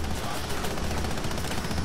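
Gunfire in the video game Rainbow Six Siege: a short, loud, dense stretch of rapid shots blending into a continuous roar, with no pause across the moment.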